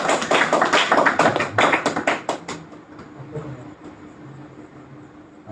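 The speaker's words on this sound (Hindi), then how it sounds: "अरे हमारा ड्राइंग के लिए ताली वाली बजाओ" Clapping from an audience at a Bhagavad Gita class, a brief burst of loud, close rapid claps that stops after a couple of seconds, leaving quiet room tone.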